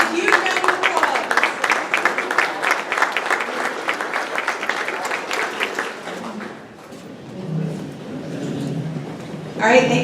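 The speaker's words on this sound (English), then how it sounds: "stand up and give yourselves a huge round of applause" An audience stands and breaks into loud, sustained applause of many hands clapping together, which gradually thins and fades before a brief final burst near the end.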